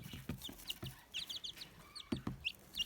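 Hens on a small farm cluck around a feed dish, with soft, irregular clucks and short squawks coming close together at low volume.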